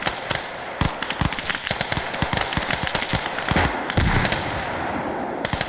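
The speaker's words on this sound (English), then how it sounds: "Howitzer, fire away." Gunfire and explosions in the World War II strategy game Call to Arms: Gates of Hell Ostfront, a rapid, loud barrage of sharp cracking bursts with a heavier boom around the middle, dense and continuous with no speech.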